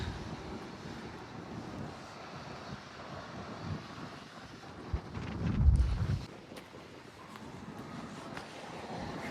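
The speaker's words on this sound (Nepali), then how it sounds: "मिठो हावा लागिरहेछ आज" Wind buffets the microphone in a low, continuous rumble on a walk around West Virginia University, swelling into a stronger gust midway before settling back.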